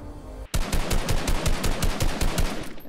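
Rapid automatic gunfire in the Fortnite video game, a sharp burst of evenly spaced shots starting abruptly and continuing loud and close for over two seconds.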